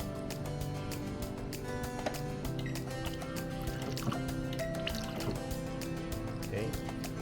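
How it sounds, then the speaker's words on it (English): Water pours and splashes into a pot of black rice being prepared for cooking, a steady close liquid trickle with some clinking under light background sounds. "first and foremost we're gonna add some water"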